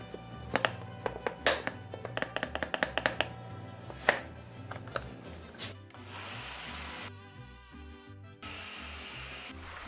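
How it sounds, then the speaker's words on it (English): A knife chops cilantro on a board in a quick run of sharp, close taps, then gives way to a steady whirring hum. "So now we're gonna chop our cilantro."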